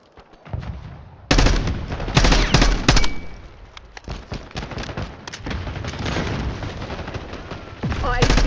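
Loud, dense automatic gunfire from a video game match, with sustained bursts and short gaps between them, layered over game effects.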